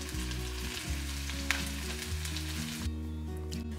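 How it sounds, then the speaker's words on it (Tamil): Steady, loud sizzling of onion and coconut frying in hot oil for thavalai vadai, a continuous crackle with occasional pops, heard up close with no talking. "இப்போ இதெல்லாமே நல்லா பொரியட்டும்."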